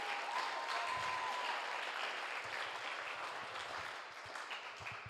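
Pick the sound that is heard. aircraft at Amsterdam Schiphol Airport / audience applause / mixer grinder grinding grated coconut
audience applause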